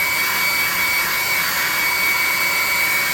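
An old, worn-out hair dryer that rattles runs steadily and loudly, a constant harsh whoosh with a high whine, no voices.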